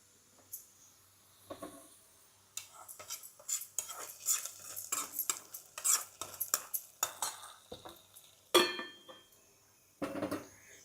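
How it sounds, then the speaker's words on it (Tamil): Crisp tempering tipped into a pot of toor dal and snake gourd kootu before the lid goes on, giving a run of clattering metal scrapes, spoon knocks and short sizzling bursts at close range. "இப்போ தாலிசம் நல்லா முருகலாயிடுச்சு நம்ம இப்போ கொட்டிட்டு மூடி வச்சிடலாம்"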